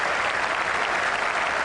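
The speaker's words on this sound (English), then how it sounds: "A little clap there for Flintoff from Warne." Cricket crowd applauding in a packed Ashes Test stadium, a steady dense wash of clapping from many hands throughout, with no voices standing out.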